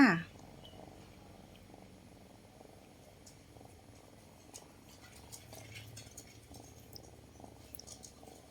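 A cat's soft, low purring rumble continues steadily and close in a cat café, faint against the quiet background, with a brief louder noise at the start.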